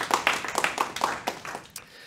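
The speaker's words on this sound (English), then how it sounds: "A huge round of applause for Alan." A few people clap for quiz contestant Alan at a live talk show, the claps sparse and uneven, fairly faint and tapering off within two seconds.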